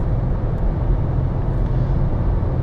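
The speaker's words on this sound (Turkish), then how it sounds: "Motorun sesi de güzelmiş hakikaten. 3 silindirli sesi geliyor." A Skoda Scala with the 1.0 TSI three-cylinder engine drones steadily from inside the cabin while driving uphill at speed, a low, even hum with road noise and no talk.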